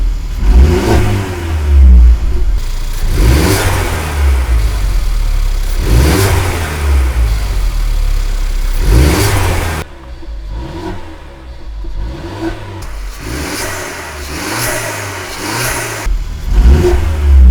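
A 2016 Mercedes A250 AMG Line fitted with a K&N panel air filter revs loud and close, with repeated rising pulls through the gears, each surge building then dropping off, with a quieter stretch midway before the revving resumes.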